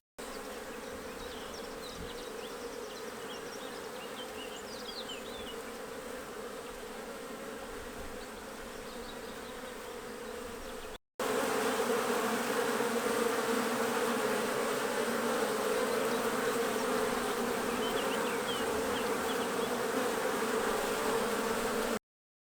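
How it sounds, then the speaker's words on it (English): Honey bees buzz steadily around a hive in spring, a dense continuous drone of many insects that is loud and close, with a short break midway and then a louder stretch, with no voices. "the bees will really start to enjoy their spring foraging"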